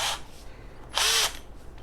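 Bosch GSR 120 cordless drill driver whirring in reverse, with two short close bursts of motor whine separated by a pause, no talk.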